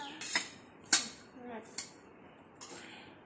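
Eggs being beaten for an omelette in a bowl, giving a few sharp clinks and scrapes in separate bursts, close and fairly quiet, with a voice briefly audible.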